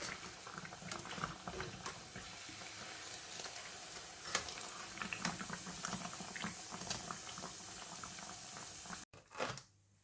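Korean street-food potato salad toast deep frying in hot oil, a dense continuous bubbling sizzle heard up close, with faint crackles throughout and a brief clatter at the end.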